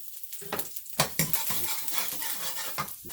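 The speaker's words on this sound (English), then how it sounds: "smash the garlic up into the oil you chop it up a little bit too and then just toss in there" Chopped garlic is tossed into hot oil in a pan and fries, giving a close, bright sizzle with stirring and scraping of a utensil against the pan throughout.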